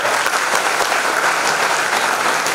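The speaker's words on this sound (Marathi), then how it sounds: "त्याच्यासाठी टाळ्या वाजवा" Steady, dense clapping from a seated crowd of students at a college induction ceremony, an even wash of applause with no break.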